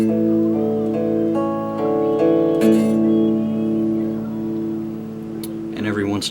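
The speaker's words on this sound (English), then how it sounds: "this is all arpeggiated, meaning you pick each individual string instead of strumming." Picked electric guitar notes ring out one at a time, letting each string sustain and overlap into a smooth, arpeggiated pattern, the intro of a song.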